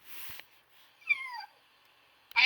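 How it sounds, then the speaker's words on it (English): A short, faint meow with a falling pitch, fairly quiet, heard between bursts of other noise. "I have no clue if you heard that meow."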